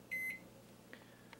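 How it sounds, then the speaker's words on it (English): A microwave oven gives a short electronic beep, then runs with a faint low hum, followed by a couple of soft clicks, quiet and close by. "Sorry, I can't hear you over the microwave."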